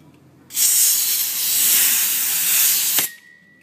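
Pressurised CO2 gas hisses loudly and steadily for about two and a half seconds while a cylinder is being refilled, starting abruptly and cutting off sharply, with a faint tone lingering afterward.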